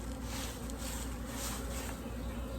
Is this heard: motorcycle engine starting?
no